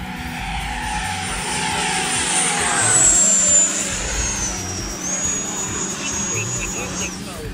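FMS Futura V3 80mm electric ducted-fan RC sport jet making a knife edge pass down a runway, a loud rising-then-falling whine as it sweeps past at close range.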